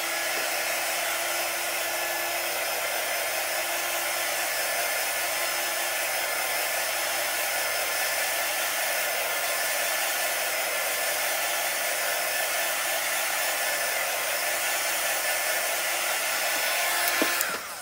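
A hair dryer runs steadily and loudly for the whole stretch, drying chalk paste on a stencil, with a broad constant whoosh that never pauses.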